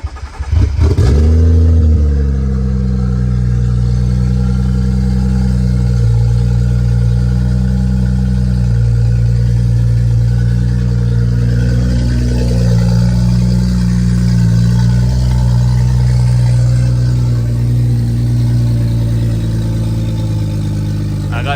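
A BMW F10 535 runs steadily after starting, with a new blow-off valve fitted and an open dump, giving a close, loud, even engine drone with only slight changes in pitch throughout.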